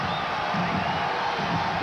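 Arena crowd at a 1991 Penn versus Miami basketball game giving a continuous roar of cheering and murmur, steady and dense throughout, with commentary woven under it.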